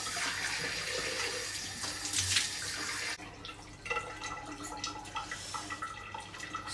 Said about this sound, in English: Once I'm done, I would like to give it a splash of water and cold water.